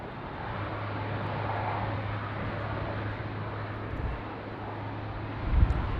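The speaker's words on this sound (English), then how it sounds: "Wow, Jetstar 526 going around." A Jetstar airliner goes around at Sydney Airport at dusk, a steady broad roar of jet engines sustained throughout at moderate distance, with no voices.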